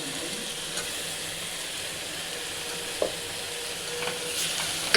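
Onions and tomatoes sautéing in a pan for Maharashtrian onion Bombay duck curry, a steady close sizzle and hiss of frying with a few soft stirring scrapes, heard alone without speech.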